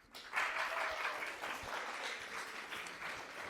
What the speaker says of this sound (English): We're going to have a big round of applause for Lynn, please.